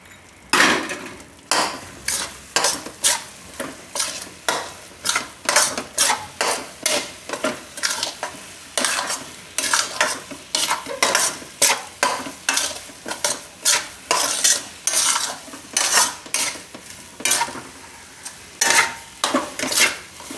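Katlu and wheat powder are stirred in a pan for sukhdi, a repeated scraping and knocking of a spoon against the pan in a quick, steady rhythm, close and fairly loud with no voices.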